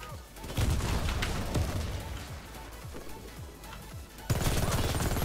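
Loud, close gunfire in the shooter game Warface: rapid sustained bursts of automatic fire, then a sharp fresh volley near the end.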